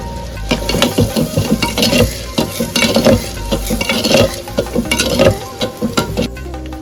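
Dry spices, salt, turmeric, coriander and cumin powder stirred with yogurt and cashew paste in a hot pan, giving a steady sizzle under repeated scraping strokes of a spoon against the metal, close and loud with no talking.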